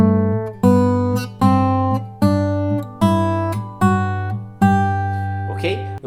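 Fingerstyle guitar scale with the thumb holding a low bass note under a ring-finger melody, plucked in seven evenly spaced, ringing notes that climb steadily, close and clear, with no talking.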